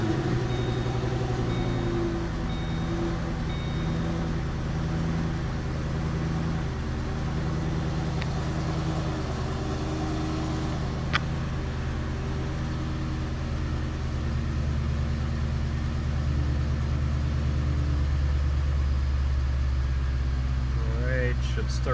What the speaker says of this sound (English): Let's restart the car.